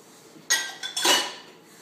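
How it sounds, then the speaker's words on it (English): Dishes clatter into a dishwasher rack, with two sharp ceramic and cutlery clinks close by, then a brief fading rattle against quiet surroundings. "you place your dish"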